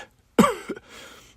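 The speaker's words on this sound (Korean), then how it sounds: "기침 소리가 많이 안 좋은데요." An older man gives a single harsh, rough cough at close range, a sharp burst followed by a short trailing rasp and breathy tail in an otherwise quiet room.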